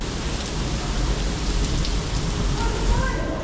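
Rain falls steadily in Mexico as a dense, continuous hiss close by, holding an even level throughout with no voices over it.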